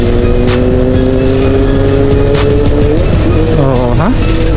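A Honda motorcycle passes on a provincial road in Sta. Barbara, Pangasinan, its engine note droning steadily and then rising and dropping sharply as it goes by, over continuous nearby road noise.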